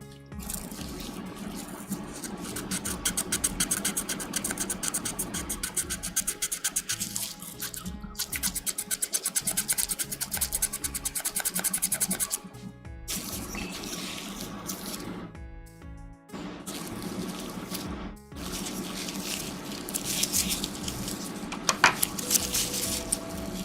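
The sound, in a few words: sanding a Gunpla model part with sandpaper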